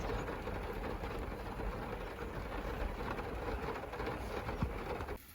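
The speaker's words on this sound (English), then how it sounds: "listening to the rain. It's so cosy in here when it rains" Rain falls on a camper van in the evening, a faint, steady patter and hiss heard from inside, continuous and even, with no voices.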